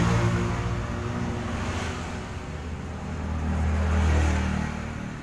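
A car engine accelerates and revs with a steady low rumble that swells louder toward the end, heard fairly close with no talk over it.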